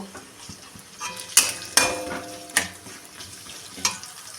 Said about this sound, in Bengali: পেঁয়াজটা এবার আমি ভাজা করে নেব